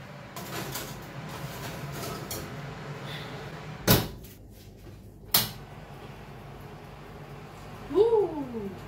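An oven door clanks open and shut with two sharp knocks as a tray of cheeseburger sliders goes inside, set against quiet kitchen background and a short squeak near the end.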